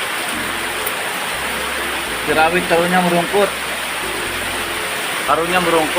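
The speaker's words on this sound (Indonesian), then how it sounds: "Hujan gede, aduh apes." Heavy rain pouring down in a forest, a loud, constant hiss of downpour throughout, with someone talking over it.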